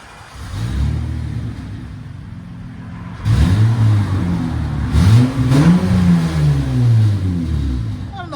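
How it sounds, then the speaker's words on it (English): A 2008 Honda Accord with a 3.5L V6 on its stock exhaust, idling close by and then revved several times, each rev rising and falling in pitch over a quiet, smooth idle. "2008 Honda Accord V6. This is what it sounds like before."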